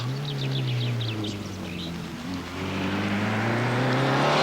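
Rally car on a 1996 Belgian stage, trailing a puff of blue smoke, its engine droning loudly with shifting pitch as it revs and accelerates, with faint bird chirps in the background.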